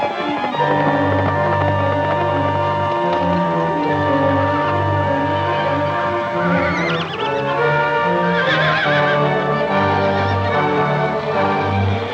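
Horses whinny and neigh over a steady, loud bed of layered music in a 1949 Western film, with a few high calls rising and falling near the middle.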